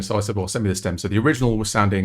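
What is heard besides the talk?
None of the usual background noises is heard.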